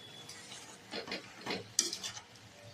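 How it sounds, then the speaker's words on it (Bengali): Cabbage dal being stirred in a pan after the turmeric and chili go in, a few soft scraping and clinking strokes of a spoon against the pan, with one sharper metallic clink partway through. "সবকিছু দেওয়ার পর ভালোভাবে নাড়াচাড়া করে নিতে হবে।"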